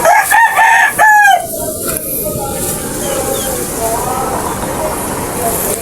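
A rooster crows loudly nearby in a few strong bursts, followed by a steady rustling background.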